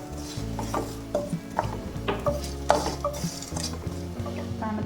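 Roasted masala for a potato masala curry scraped and stirred from a pan into a bowl to cool, with close metallic spoon scrapes and knocks over a faint sizzle.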